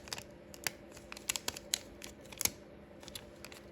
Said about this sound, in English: you're just gonna peel this off